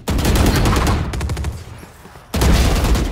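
Loud, continuous automatic gunfire from a video game shooter rattles in rapid bursts, dips briefly, then resumes at full intensity with no talking over it.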